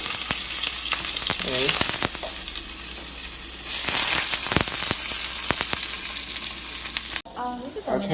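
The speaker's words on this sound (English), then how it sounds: "we are putting our big fat lamb patties on here, and we're going to let them cook" Big fat lamb burger patties sizzle loudly in a pan, a constant close crackle and hiss that surges louder partway through, with a few clinks and scrapes of a utensil and brief voices over it.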